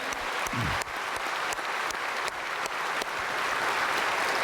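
Church congregation applauding during a Korean sermon, a steady, dense wash of clapping from a large crowd filling the whole stretch without talk.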